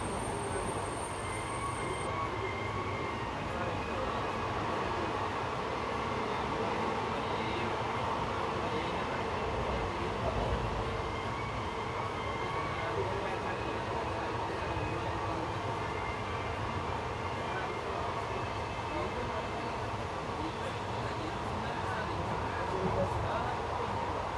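Ernad Express train pulling into Payanur station for a scheduled halt while the Vande Bharat runs through, a steady rumble of wheels and carriages throughout with no clear talk.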